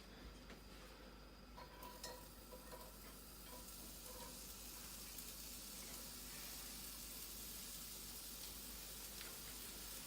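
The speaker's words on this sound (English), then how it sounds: "So now that my pan is preheated, I'm gonna put in my onions, my garlic." Quarter of a diced onion and two tablespoons of minced garlic hitting a preheated pan, a faint steady hiss with a few early utensil clinks, low and unobtrusive beneath a constant background hum.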